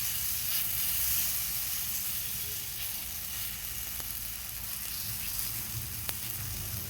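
Spooned rounds of batter fry in a hot pan with a continuous, close, even sizzle and hiss, plus a few faint clicks along the way.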